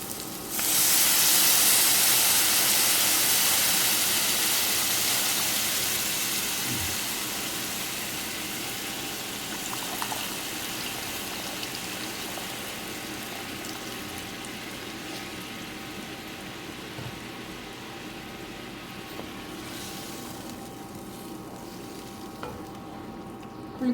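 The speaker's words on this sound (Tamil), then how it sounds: "அந்த புளி தண்ணியை கரைச்சி அதில் ஊற்றிடலாம்" Tamarind water poured into a hot pan for a mango fish curry, a loud rush of sizzling and hissing steam at first that eases into a steady simmering crackle, with faint stirring clinks.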